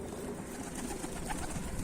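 A pigeon coos softly and steadily from nearby, with a low throaty murmur running through the whole short stretch.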